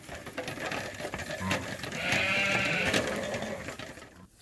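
A ewe on a sheep farm bleats in one long, wavering call near the microphone over steady background noise.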